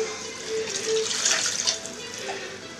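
Running tap water used for rinsing while cooking a Corsican wild boar daube, a steady close splashing stream that swells in the middle and stays constant, with a brief voice.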